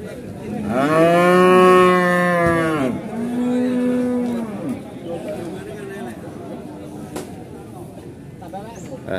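A cow moos loudly and long nearby at a cattle market in Pati, Indonesia, during loading, then gives a shorter second low, with people chattering in the background.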